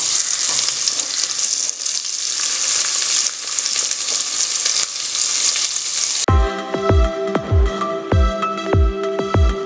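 Onions and spices, including mustard seeds, cumin, fenugreek, asafoetida and shallots, sizzle loudly and steadily in hot oil for about six seconds before rhythmic music takes over.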